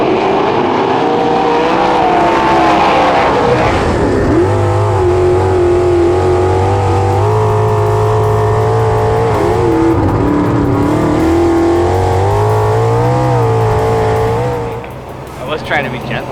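A mini stock race car at Merrittville Speedway revs hard and loud, its engine pitch climbing and falling as the tires squeal, before the sound drops off near the end.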